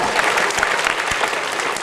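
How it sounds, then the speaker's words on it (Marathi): An audience claps to welcome prize winners at a ceremony, with dense, steady applause filling the room from start to finish, loud and close, and no voices standing out. "या सर्वांचं आपण टाळ्या वाजवून एकदा स्वागत करूया"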